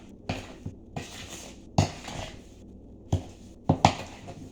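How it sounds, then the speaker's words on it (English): A spoon knocks and scrapes around a bowl while stirring peanut butter cookie dough, giving a few sharp, irregular clatters separated by quiet pauses, close by with no talk. "Keep on giving it a little stir,"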